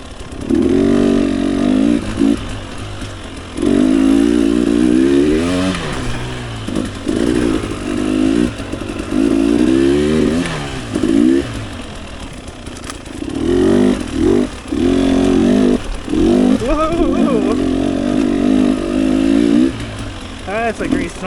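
Fuel-injected motorcycle engine ridden on a trail during practice at Twin Hills, loud and close, surging in repeated revving bursts with brief throttle drops and a rough, buzzing drone throughout.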